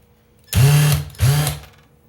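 Power screwdriver driving screws during an Acer laptop teardown, two short whirring bursts of about half a second each in quick succession, close and fairly loud.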